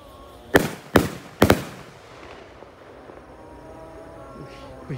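Roman candle fireworks fire on a night of Eid al-Adha takbiran, three sharp, loud pops in quick succession, followed by faint crackling and a quiet outdoor background.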